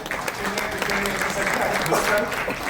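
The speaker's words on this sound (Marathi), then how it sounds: "पण जोरदार टाळ्या झाल्या पाहिजे" Dense, steady audience applause at a Star Pravah television channel announcement event, continuous clapping from a crowd with voices mixed in throughout.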